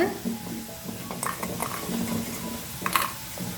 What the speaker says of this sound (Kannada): ನೋಡಿ, ಆಲೂಗಡ್ಡೆ ಬಿಡಿಯಾಗಿ ಚೆನ್ನಾಗಿ ಫ್ರೈ ಆಗಿದೆ.